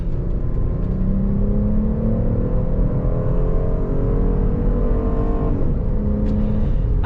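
An original Porsche Cayenne accelerates on a test drive, its engine note rising and shifting through gears from inside the cabin, loud and steady with rising tonal whine.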